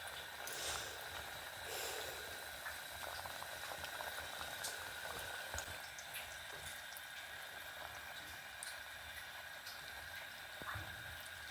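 Athrasa dough sizzles and bubbles steadily in hot coconut oil and ghee, a dense, continuous crackling fry with occasional sharper pops, fairly quiet and heard alone without talk.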